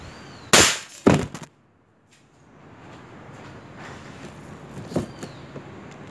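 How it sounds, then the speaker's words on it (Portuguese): Two sharp gunshots from a CBC Montenegro 6.0 firing normal bullets at an old brick, loud bursts close together near the start, followed by quiet outdoor ambience and a fainter thump later. "o primeiro tiro agora é com bala normal"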